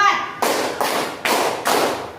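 A group claps in unison on counted cues, four sharp, roomy bursts spaced evenly about half a second apart, each ringing briefly before the next, right after a short spoken lead-in.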